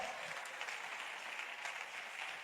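Hearty applause rises from a church congregation at a Sunday service. The clapping is full and continuous for the short stretch, with scattered voices faintly under it.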